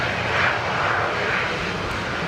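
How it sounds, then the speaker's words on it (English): A Fokker 70 airliner on short final approach at Brisbane Airport as aircraft evacuate ahead of Cyclone Alfred; a steady, fairly loud engine roar holds throughout with no voices. "I know you've got at least one more arrival, the Fokker 70, which is on short final for the Legacy."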